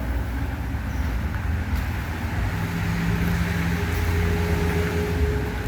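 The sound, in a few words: cars passing on the nearby road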